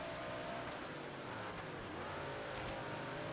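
Sprint car engine in the World of Outlaws racing game, a steady loud high-revving drone with faint tire noise, sustained without a break and no voices over it.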